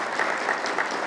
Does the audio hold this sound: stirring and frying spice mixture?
no